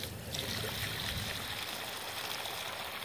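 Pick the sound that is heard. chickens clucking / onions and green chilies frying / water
water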